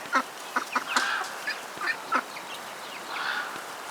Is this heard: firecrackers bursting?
no